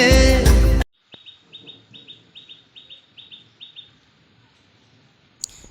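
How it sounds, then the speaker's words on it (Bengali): A rapid series of high, bright bird chirps repeats in an even rhythm, with soft clucking underneath, after a brief loud burst at the start. "পাখির ডাকটা শুনতে বেশ খুব সুন্দর লাগলো"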